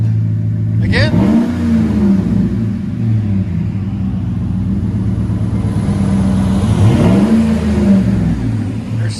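A Chevy Silverado 5.3L V8 with a Flowmaster 40 series exhaust rumbles at a loud, close idle and is blipped twice, each quick rev swelling and dropping back to a deep burble.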